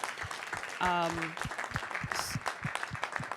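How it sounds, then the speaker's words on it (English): Round of applause for a youth leaders panel at a national convening, heard as soft, distant clapping under a sustained tone and some background voices. "let's give a round of applause to our platform"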